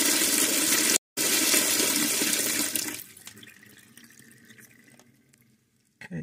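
Water gushes loudly from a cold tap for about three seconds, broken by a brief cut, then drops to a quieter trickle and faint drips in a kitchen or workshop sink.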